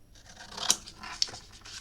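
Scissors trimming excess paper from a handmade rose garden memory book: a few short crisp snips, close and fairly faint, spaced under a second apart.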